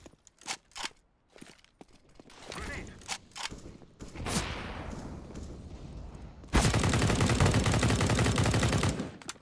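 Counter-Strike: Global Offensive gunfire comes as sharp single shots and short bursts mixed with footsteps, then a sustained loud spray of automatic fire near the end, with talk in between.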